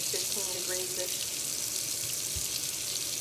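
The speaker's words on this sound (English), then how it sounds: "I've got to turn this water on and get it warm" Water running from a kitchen tap while being warmed for mixing yeast, a steady broad hiss throughout, with a brief faint voice-like sound early on.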